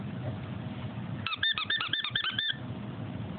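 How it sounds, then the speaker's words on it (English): A child's squeaky toy gives a quick burst of about eight sharp, high squeaks over roughly a second, close and clear against a quiet room hum. "Is it the squeaky toy?"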